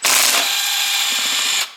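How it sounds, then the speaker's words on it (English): A Torx tool, T50 size, loosening side bolts on the oil pump of a BMW E90 320i: a steady, loud whirring buzz of a power driver running close for under two seconds before cutting off. "This is Torx base tool, and I open these"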